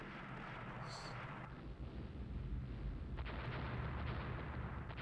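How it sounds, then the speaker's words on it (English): Naval gunfire from a Rule the Waves fleet battle rumbles as deep, continuous booming and rolling low thunder, with a brief high tone early on; no voices. "My fleet's improved gunnery is showing."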